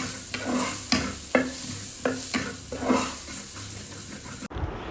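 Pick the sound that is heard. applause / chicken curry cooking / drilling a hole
chicken curry cooking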